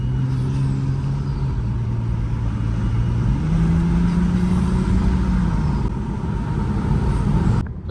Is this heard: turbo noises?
yes